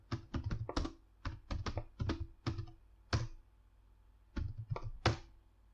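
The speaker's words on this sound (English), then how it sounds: "Type your password, and there we go." A password being typed on a computer keyboard: quiet, close key taps in short irregular clusters, separated by brief pauses, with no talking.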